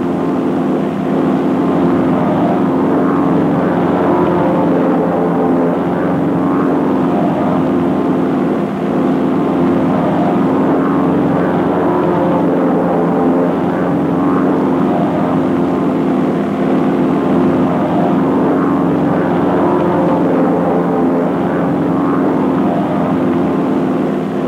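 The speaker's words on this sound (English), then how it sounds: "The number 2 plane then passes back down the echelon and crosses to the right and takes up" North American Aviation T6 propeller airplanes flying in formation give a steady, droning engine roar that stays loud and constant throughout with no talk over it.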